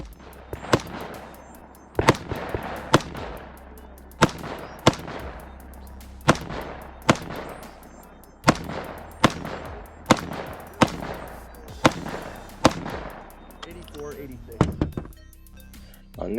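Rifle gunfire at a 2-gun shooting stage, fired from a low-cover kneeling position: a long string of sharp, loud reports at irregular intervals, roughly every half second to second, with ringing decay. Voices can be heard intermittently underneath.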